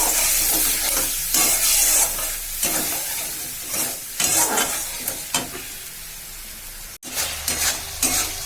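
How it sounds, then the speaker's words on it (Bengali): Spice paste with turmeric and a little water being stirred and fried in a pan: a continuous close sizzle with rhythmic scraping stirs and a sharp clunk near the end, no talk. "একটু জল দিয়ে মশলাটা কষিয়ে নেবো"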